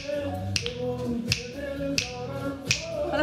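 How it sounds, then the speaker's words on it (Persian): Sharp finger snaps during a dance lesson, four crisp, evenly spaced clicks roughly every 0.7 seconds over steady background music. "حالا بشکن"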